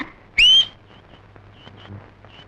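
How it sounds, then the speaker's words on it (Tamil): A single short, sharp, rising whistle from a person, loud and close, followed by faint scattered clicks and near silence, with no talking. "நீ வேற விசில் அடிச்சு பயமுறுத்துற"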